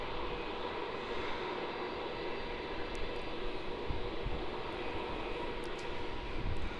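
A Jetstar Airbus A320 arriving at Melbourne Airport from Adelaide gives a steady, fairly faint broadband jet roar heard from a distance, with no voices.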